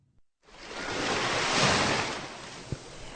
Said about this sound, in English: let's go to the beach for a 1 minute and 4 second vacation on Nantucket Island